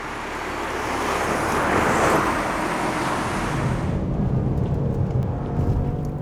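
A BMW M3 or Alpina D3 saloon passes on a handling test track with a loud, rising rush of engine and tyre noise that peaks and then fades to a duller, more distant drone.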